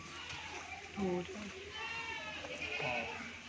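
A Rajanpuri goat up for sale bleating in short, wavering calls at moderate distance, mixed in with someone talking and children's voices in the background.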